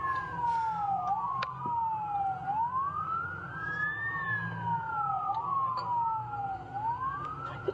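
A police car siren wails up and down in slow, repeated sweeps. It is fairly loud and near, over low traffic rumble, with a few faint clicks and knocks in between.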